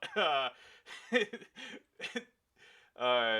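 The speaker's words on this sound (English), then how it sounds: "starting to cough up that sparkling water." A few harsh, spluttering coughs from coughing up sparkling water, mixed with throat sounds and a voiced chuckle, close by, over a few seconds.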